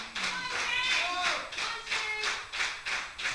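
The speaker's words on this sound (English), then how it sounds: "There they go, cheering for Jason." A wrestling crowd cheers and claps for a wrestler in rhythmic waves of noise that swell and fade about twice a second, with a voice heard among them.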